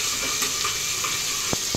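Chopped onions sizzle in hot oil over a mustard seed, black gram and curry leaf tempering in a home kitchen, a soft steady frying hiss with a couple of faint utensil taps.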